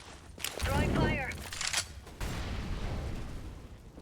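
An incendiary grenade thrown in CS:GO bursts into a steady, rushing hiss of burning fire that holds to the end, after a short stretch of voice over game noise at the start.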